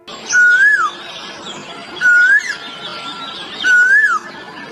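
An Asian koel calls with three loud, rising whistled notes, evenly spaced about every two seconds and close to the listener, with no voices.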